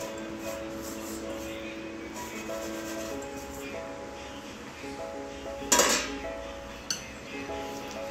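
Raw mango pulp stirred with grated jaggery in a pot, a soft continuous rubbing and scraping close up, punctuated by a sharp metallic clink and a smaller knock of the spoon against the pot.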